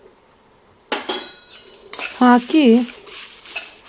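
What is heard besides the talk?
spices being dry-roasted and stirred in a pan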